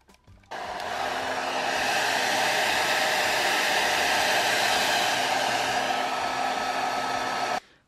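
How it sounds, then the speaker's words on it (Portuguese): A hair dryer switches on, blows with a loud, steady whooshing hum for about seven seconds while heating a Samsung Galaxy A01 phone screen, then cuts off abruptly. "Vou aquecer com o secador, porque aqui eu não tenho a máquina para aquecer."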